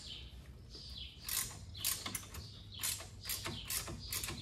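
Ratcheting wrench working on the front long-travel suspension of a 2020 Yamaha YXZ-1000R, a series of close, quiet bursts of clicking ratchet strokes in an irregular rhythm, with no talk.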